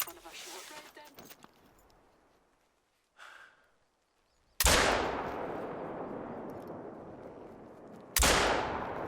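Hunting rifle shots in theHunter: Call of the Wild, two loud sharp cracks a few seconds apart, each trailing into a long fading echo, after quieter rustling and a brief breathy sound.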